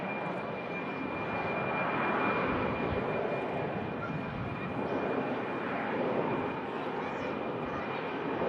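An airplane at Manchester Airport gives a steady, fairly distant broadband engine roar that swells slightly and holds for several seconds, with no talking.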